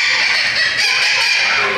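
Quails and a parrot calling in a zoo aviary: a continuous, loud chorus of shrill, overlapping bird cries fills the whole stretch with no talking.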